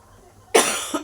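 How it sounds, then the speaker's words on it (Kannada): A single sharp, loud cough from someone who is unwell, breaking out abruptly in the middle of cooking shyavige payasa, with a short second burst trailing right after it and no talk over it. "ಕೆಮ್ಮು ಬಂತು ಮಧ್ಯದಲ್ಲಿ"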